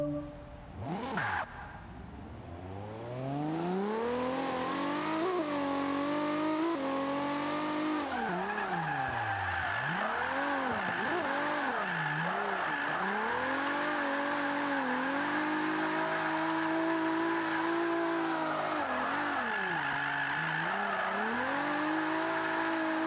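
Toyota Supra drifting in Forza 5, engine note rising and falling with revs over a long continuous tire squeal, loud and steady throughout after a brief quieter start.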